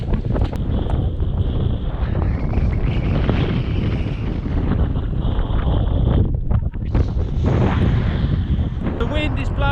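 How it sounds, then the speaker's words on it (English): Strong wind blows across a snowy field during a winter hike, roaring steadily into the microphone with loud buffeting gusts throughout. "The wind is blowing across the field and building up here."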